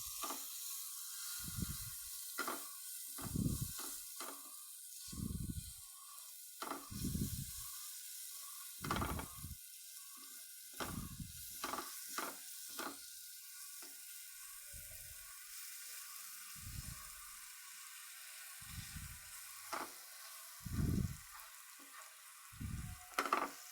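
Masala powders fry and get stirred in a hot pan, with a faint steady sizzle under regular, close scraping strokes of a spoon at a slow rhythm.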